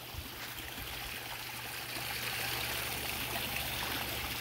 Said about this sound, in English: And now we have the waterfall.